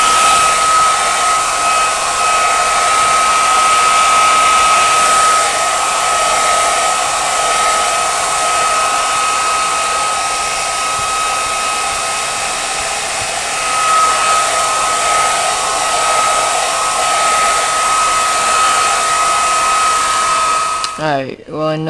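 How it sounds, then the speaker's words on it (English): A hair dryer blowing over a yellow Burlington Northern model boxcar runs as a loud, steady whine and rush of air for about twenty seconds, then switches off with a brief falling rattle. "I'm gonna go blow dry that now, and then I'll get to the powders."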